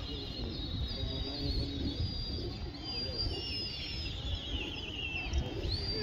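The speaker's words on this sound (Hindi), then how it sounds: "ये फिर नदीम भाई के कबूतर उठे हैं दोबारा से" Pigeons take off and coo softly amid a busy rooftop pigeon-flying contest in Amroha, India, with faint whistling calls and low rumbling noise throughout.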